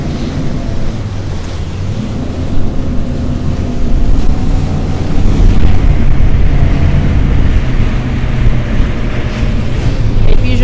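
Strong sea wind buffets the microphone with a loud, steady roar at the finish of the Vendée Globe ocean race. Waves and surf sound beneath it and build slightly partway through.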